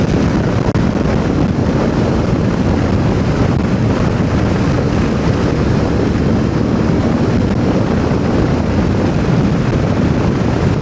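Riding a Suzuki V-Strom 800 DE motorcycle, with a steady, loud rush of wind buffeting the microphone for the whole stretch and no engine detail standing out; no one speaks.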